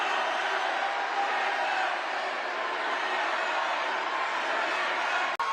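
A large rally crowd roars with sustained applause and cheering, a dense, even wash of noise that holds steady before cutting off abruptly.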